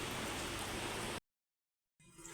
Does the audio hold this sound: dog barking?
no